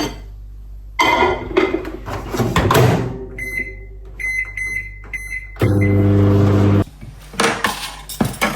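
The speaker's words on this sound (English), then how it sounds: "I'm going to put it in the microwave and warm it up." Microwave oven warming diced Russian sausage in a home kitchen, with clattering dishes and utensils, a few rapid electronic beeps from the keypad, then a steady close humming drone as it runs for about a second.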